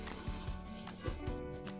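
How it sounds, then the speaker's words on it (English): Garlic and shallot sizzle in a pan, a dense steady crackle with a few soft knocks of stirring mixed in, close and continuous. "I got my garlic and shallot going. It's starting to sizzle."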